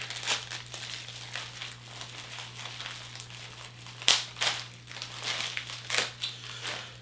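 A plastic bag crinkles and rustles close by in irregular bursts as a Funko toy is pulled out, with one sharp crackle partway through, over a steady low hum.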